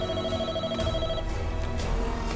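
A landline telephone rings in a film scene, giving a short, loud, electronic ringing tone with no talk over it.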